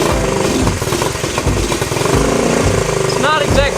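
An old Honda Trail 90 motorcycle, back running after decades in a barn and not well tuned, chugs and revs unevenly up close, loud and rough, with people talking over it.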